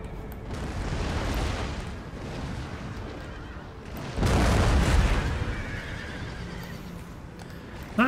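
Cavalry horses in an Empire Total War battle neigh and whinny loudly over clip-clopping hooves, with booming cannon or explosion blasts in the background and a sudden surge of noise midway.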